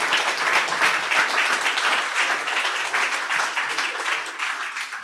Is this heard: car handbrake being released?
no